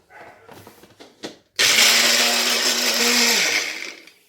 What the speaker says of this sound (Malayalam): ആദ്യം തന്നെ ഞാനിത് ജാറിലേക്ക് ഇട്ട് കൊടുത്തിട്ട് ഒന്ന് അടിച്ചെടുക്കും